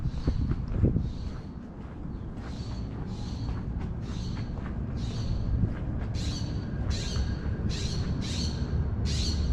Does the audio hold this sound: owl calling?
yes